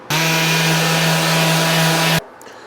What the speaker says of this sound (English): Just gonna quickly hit this with a sander.